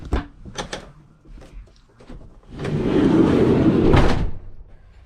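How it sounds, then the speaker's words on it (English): Several light knocks and clicks, then a long sliding rumble ending in a soft shut of a campervan kitchen cabinet door. "Shut this door."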